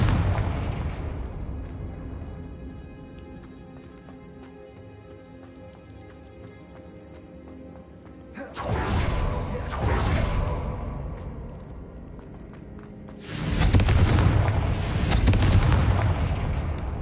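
Confringo blast spell explosions in the video game Hogwarts Legacy, two loud booming bursts several seconds apart, each with a crackling tail, over quieter game ambience.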